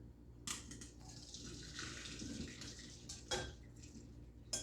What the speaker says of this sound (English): now you just have to drain these into the sink